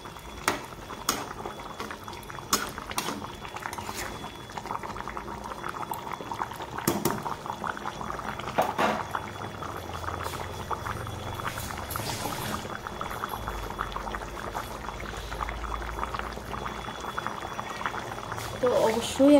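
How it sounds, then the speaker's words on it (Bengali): Rohu fish curry gravy with potato and cauliflower simmering in a pot, a soft bubbling under a voice, with occasional clinks and a louder burst near the end. "মাছটা দিয়ে আমি একটু ফুটিয়ে নেব ঝোলটাকে"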